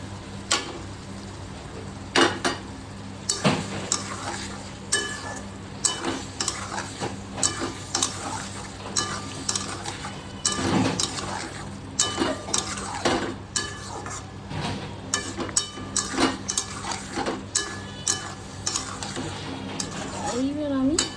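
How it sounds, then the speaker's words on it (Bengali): Prawns sizzle in hot oil with coriander leaves in a pan, while a spatula scrapes and clinks repeatedly against the metal as they are stirred, close and busy, with someone talking now and then. "এবার আমি চিংড়িগুলো দিয়ে দেবো।"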